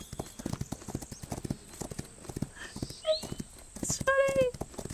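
Horse hooves clip-clop in a steady, regular rhythm in the horse racing game Rival Stars Horse Racing, with a short whinny-like call near the end, under light background talk.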